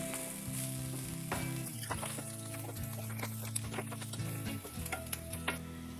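Clam meat frying in a pan with pepper powder and garam masala, a steady close sizzle broken by repeated scraping and stirring strokes of a spoon against the pan.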